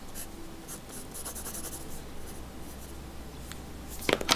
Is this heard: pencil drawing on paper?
yes